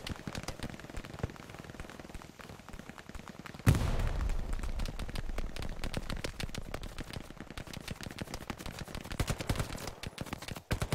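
Rapid bursts of automatic gunfire fired at infantry running across a field in a multiplayer war video game, dense and continuous, with a sharp louder burst partway through and shots continuing near and loud to the end.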